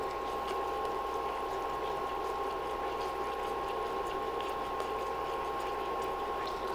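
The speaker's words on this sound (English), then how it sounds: "It's starting to boil." Inchi puli, a ginger pickle, boiling in a pan, with a steady close bubbling hiss that runs evenly throughout and no voices.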